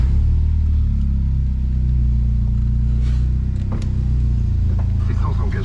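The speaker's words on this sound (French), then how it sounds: "On va redémarrer la voiture pour le plaisir des auditeurs." A restarted car engine runs close by with a loud, steady low rumble that holds throughout, barely rising in pitch, while faint voices come through now and then.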